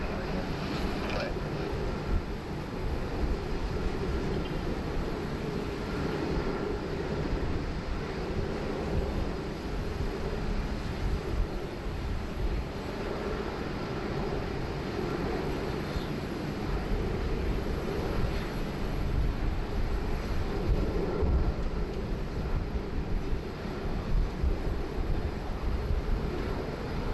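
A Qantas airliner lands on runway 16 right at Sydney Airport, its engines a continuous broad roar with wind-buffeted rumble, while a voice talks faintly over it.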